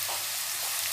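Crushed garlic frying with onion in a pan makes a brief, even sizzling hiss, close and constant with no voices.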